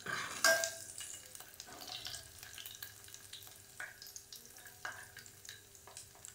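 A garlic and green chili tempering fries quietly for buttermilk kadhi, a soft crackle broken by a loud metallic clank near the start and scattered stirring scrapes and taps of a pan.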